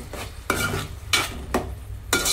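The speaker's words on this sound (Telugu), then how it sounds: "ఇవి ఇలా ఫ్రై చేసుకోవాలి" Food fries in a pan on a gas stove while a spatula stirs and scrapes it in four distinct sweeping strokes over a low continuous sizzle.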